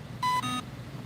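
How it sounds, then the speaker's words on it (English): Two short electronic beeps in a row, clear tones close by, over a low background hum. "There's a lot of beeping going on."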